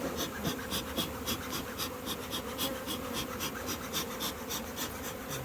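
Honey bees buzz steadily at an open hive during a honey harvest as the colony is smoked down into the box, a dense, close insect drone with faint rustling and no talk.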